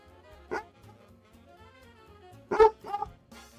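A pet dog gives a few short barks indoors, one single bark and then a quick pair about two seconds later, moderately close and clear with quiet background.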